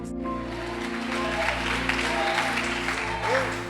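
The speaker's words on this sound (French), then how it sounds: "Est-ce qu'on peut donner gloire à l'acclamation à Jésus?" Church congregation applauding and cheering during a worship service, with sustained clapping over steady music and voices throughout.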